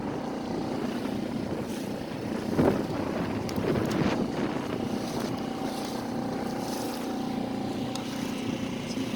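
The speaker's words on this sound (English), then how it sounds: "Still pretty gusty." Gusty wind rushes over open water during a cruise on a small boat with a 4 hp outboard, a constant low engine drone beneath uneven blustery rumbles.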